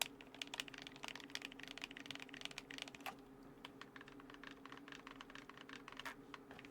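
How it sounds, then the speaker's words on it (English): Rapid, uneven clicking from the buttons of a bootleg Nintendo 64 controller being pressed, a dense run of light, sharp taps heard close and fairly quiet over a steady faint background hum, with no talking. "Buttons are a little more clicky."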